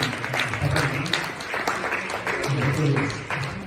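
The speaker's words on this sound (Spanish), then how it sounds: "Un aplauso, Señor." Steady applause from a congregation at a church service, continuous clapping filling the room, with voices mixed in underneath.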